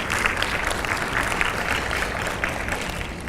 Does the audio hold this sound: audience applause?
yes